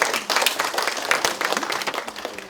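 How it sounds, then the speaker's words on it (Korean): Audience applause fills the room at a party lawmakers' workshop, a dense, steady crowd clapping that sustains for a few seconds. "큰 박수로 맞이해 주시기 바랍니다"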